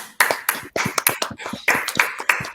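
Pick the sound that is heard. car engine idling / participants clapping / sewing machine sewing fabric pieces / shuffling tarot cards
participants clapping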